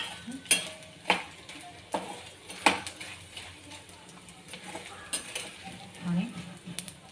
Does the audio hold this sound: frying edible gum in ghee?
yes